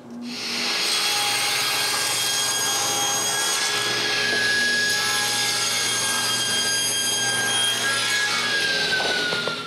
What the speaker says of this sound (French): c'est le temps idéal pour couper la poignée de ce morceau de sapelé